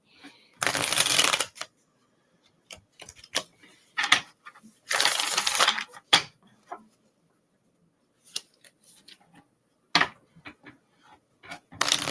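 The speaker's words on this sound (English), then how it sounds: "Get this card a good shuffle." Cards being shuffled in several bursts, crisp riffling rattles with quiet gaps and small taps between them, close and clear with no talking.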